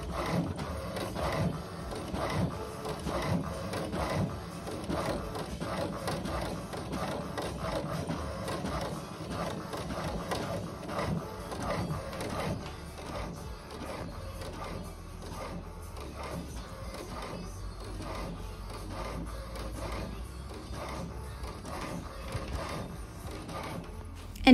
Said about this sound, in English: let's check out the way it is printing and in real speed.